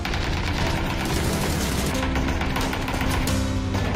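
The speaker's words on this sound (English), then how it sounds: "The Barrel M762 Assault Rifle. Coming soon to PUBG." Barrel M762 assault rifle firing in the game PUBG, a loud continuous burst of rapid automatic shots lasting the full few seconds, close and dense with no pauses.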